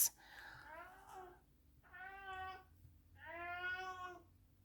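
A cat meows three times in long drawn-out tonal cries, each rising and falling, close and clear over a low steady hum, with no speech.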